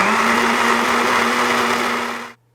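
Cocinare 1100 W personal blender whirring steadily as it blends frozen berries, yogurt and milk, a loud constant motor drone that cuts off abruptly near the end.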